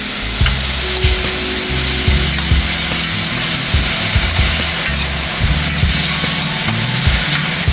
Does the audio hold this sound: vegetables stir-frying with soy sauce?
yes